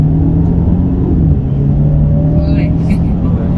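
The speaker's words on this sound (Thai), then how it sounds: "เดี๋ยวลองโหมดสปอร์ตพรัสนะฮะอัตราเร่งศูนย์ถึงร้อยนะฮะ" A Mercedes-Benz C300e AMG Sport plug-in hybrid in Sport Plus mode pulls hard from standstill, a steady low engine drone and rising whir filling the cabin, loud and continuous.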